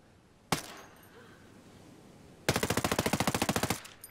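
SC-20K rifle firing in the video game Ghost Recon Breakpoint: a single sharp shot, then a rapid, evenly spaced automatic burst of about fifteen rounds at a very high rate, close and loud.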